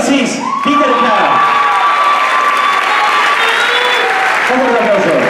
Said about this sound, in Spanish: Un fuerte aplauso para el rapero de nuestra noche